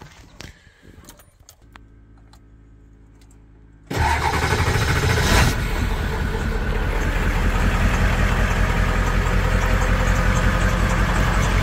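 Old Ford 7.3 diesel truck engine cranking on a cold morning, a few quiet clicks and rattles before it fires abruptly into a loud, steady idle that carries on with a constant clattering drone.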